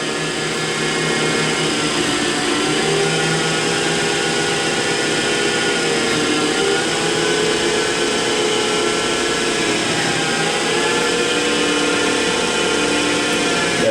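Harrison Alpha 400U CNC teach-in lathe, 16 by 50 inch, spinning at about 1200 RPM while cutting, a loud steady whine with layered tonal hum that holds constant throughout, slight pitch wavers near the middle and end, no talking.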